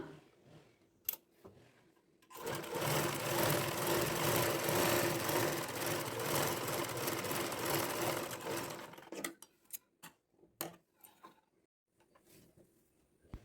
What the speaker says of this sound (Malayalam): ഇനി നമുക്ക് ആ ലൈൻ ഇട്ടതിലൂടെ ഒന്ന് സ്റ്റിച്ച് ചെയ്ത് കൊടുക്കാം